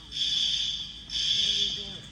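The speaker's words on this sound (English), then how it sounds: "Fire alarm is going off at Costco?" A fire alarm blares inside a Costco warehouse store in Boise, Idaho, two long shrill electronic tones sounding back to back at a steady level.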